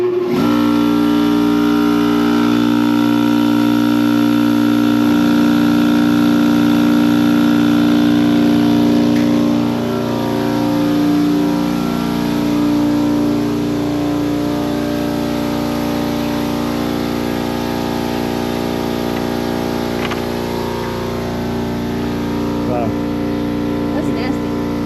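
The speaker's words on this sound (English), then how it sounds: "But listen to the motor when it starts." On a farm, an old electric pump motor with a broken on-off switch starts up when plugged in, holding a loud, steady mechanical hum with a droning whine and rattle, and talk audible over it.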